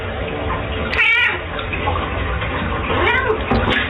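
A cat meows twice, a drawn-out cry near the start and a shorter one toward the end, over a steady rushing background noise.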